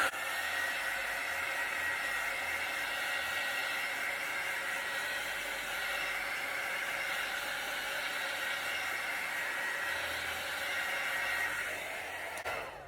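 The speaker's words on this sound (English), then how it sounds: "I'm going to hit it with the heat embossing tool just to see if that will bring some cells through." A heat embossing tool blows hot air across acrylic fluid art paint, making a steady, fairly loud whirring hiss with a faint whine that runs continuously for about twelve seconds before stopping, with no talking.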